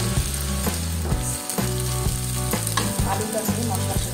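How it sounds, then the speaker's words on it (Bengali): Boiled potatoes fry with spices in a pan, a loud continuous sizzle broken by regular scraping and stirring strokes, with no voices. "আলুটা বয়েল করা আলু, মশলার সাথে ভালো করে কষিয়ে দেব।"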